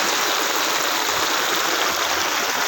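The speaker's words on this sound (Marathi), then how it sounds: "हे क्रिकेटच्या ग्राउंडवरती पाणी चाललेलं आहे" Floodwater pouring across a cricket ground, a steady broadband rush of flowing water that stays loud and constant throughout with no talking.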